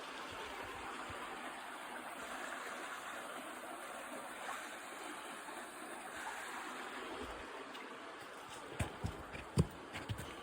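A river flows through Parfrey's Glen with a steady, even rush of water that fills the whole stretch, and a few faint clicks and knocks come near the end.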